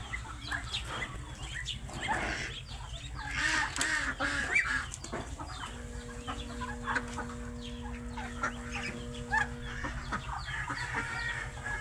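Ducks quack and chickens cluck together in a busy mixed chorus, overlapping calls rising and falling, with a faint steady hum underneath.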